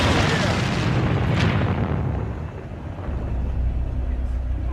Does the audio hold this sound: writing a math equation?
no